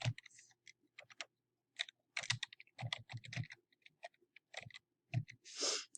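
Keys clatter on a computer keyboard in irregular bursts of clicks and short runs, close and fairly quiet, with pauses between flurries and a brief breathy rustle near the end; no one speaks.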